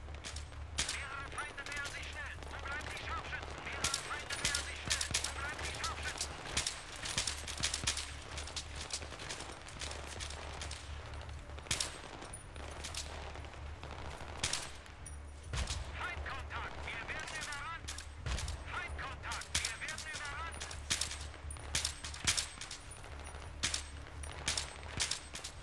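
Gunfire in the PC shooter Battlefield 3 during a co-op mission: repeated sharp shots and rapid automatic bursts crackle throughout, fairly quiet overall, with a player's voice occasionally heard among them.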